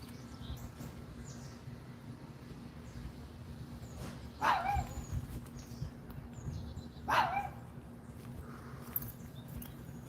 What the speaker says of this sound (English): Bark yourself to death, dog.